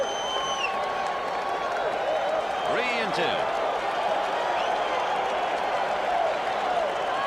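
A stadium crowd at Game 2 of the 1986-era World Series between the Boston Red Sox and the New York Mets keeps up a steady roar of cheering and scattered applause, with a commentator talking over it.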